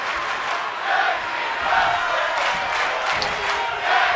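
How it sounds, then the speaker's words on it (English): An arena crowd in the wrestling video game WWE 2K keeps up steady cheering and chanting, swelling in repeated waves, with no one talking over it. "We can hear the cheer of the fans in this arena."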